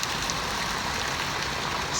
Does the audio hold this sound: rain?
yes